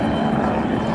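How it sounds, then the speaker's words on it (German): A Bölkow Bo-105 helicopter flies a display at an airshow in Laage, its rotor and turbine making a steady, loud, unbroken roar. "der Hubschrauber, den wir heute sehen, ist aus Celle"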